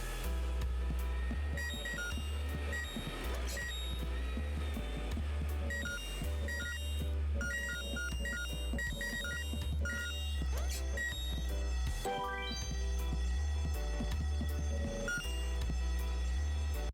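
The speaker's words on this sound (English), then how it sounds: "The ear-splitting sound was the fire alarm." Fire alarm ringing in the Horace video game, a loud continuous electronic ringing with repeating tones that stays steady for the whole stretch and sits over a layer of game music, with no one talking.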